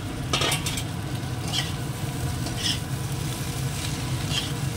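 Eggs frying in a karahi on top of soft potatoes and onions, a dense steady sizzle close by with repeated metallic scrapes and taps from a spatula against the pan.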